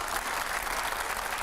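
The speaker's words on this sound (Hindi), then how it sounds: "तो एक बार जोरदार तालियां हो जाए।" Audience at a Hindi news event with Uma Bharti bursts into hearty applause, a dense, even wash of clapping sustained throughout, with no speech over it.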